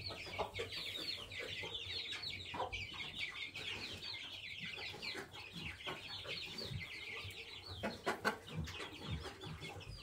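Farmyard hens clucking and chattering continuously at close range, a busy overlapping flock with occasional louder squawks, quiet in level overall.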